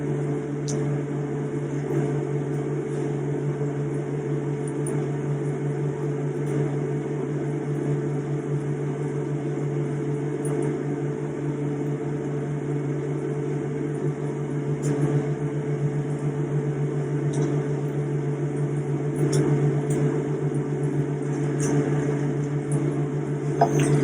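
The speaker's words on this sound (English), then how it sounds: "Let me give it a 30 seconds on the microwave" Steady low electric hum of a running microwave oven heating plastic for fishing bait, continuous and unchanging throughout with a few faint clicks.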